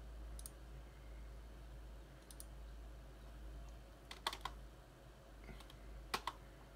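Sparse clicks and taps on a computer keyboard, a handful of separate close keystrokes, some in quick pairs, over a low steady hum with no talking.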